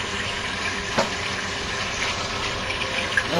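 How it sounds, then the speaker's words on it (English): Cooking oil being poured back into a frying pan while making fried spaghetti gives a steady, close liquid pour with a faint sizzle, running continuously with no talk. "we got our oil from the first go around. I'm going to put that right back in the pan."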